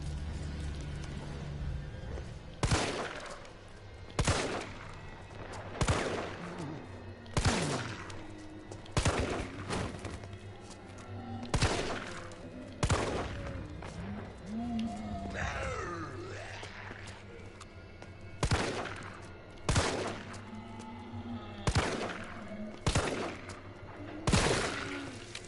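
Repeated gunshots in the Resident Evil 3 demo, a dozen or so loud sharp blasts spaced about every one to two seconds over a low rumbling game backdrop, with no voices.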